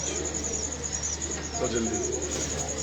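A pigeon of a warm-climate breed gives a short, soft cooing call near the middle, set against a steady background hum and a thin high-pitched tone.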